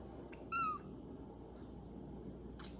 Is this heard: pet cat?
yes